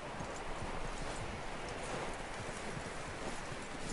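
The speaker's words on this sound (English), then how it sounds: "That looks like a decent horse." A horse's hooves clip-clop steadily in Red Dead Redemption 2, a continuous, even run of close hoofbeats over a rustling outdoor backdrop, with no clear whinny standing out.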